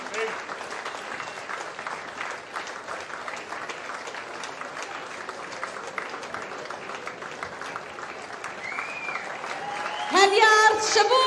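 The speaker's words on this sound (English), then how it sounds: "Give him a round of applause, ladies and gentlemen, as we celebrate the winner of the Royal Welsh in hand." Crowd applause for the in-hand winner at the Royal Welsh show, sustained clapping from spectators around the ring, with a voice speaking over it and a brief burst of a louder announcement near the end.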